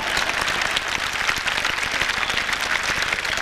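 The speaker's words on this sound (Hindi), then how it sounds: "आप ताली बजा सकते हैं।" An audience at a comedic poetry gathering applauds after a poem, a continuous wash of clapping from a crowd with occasional sharper claps standing out.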